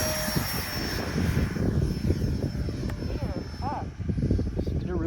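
A Freewing T-33 RC model jet flies overhead in a crosswind, a steady airy engine whine that holds throughout, mid-distance and fairly loud.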